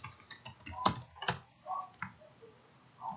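Typing on a computer keyboard during a spreadsheet task, a few sparse, quiet key clicks and taps spread over a short moment, close and without talk.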